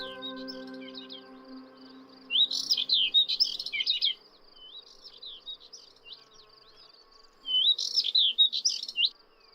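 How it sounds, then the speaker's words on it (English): Bright, rapid songs of subalpine warblers and Thekla larks in spring in Spain come in two lively bursts, chattering and warbling over a quiet background, with a low steady hum fading early on. "The birdsong of subalpine warblers and thekla larks can be heard all around."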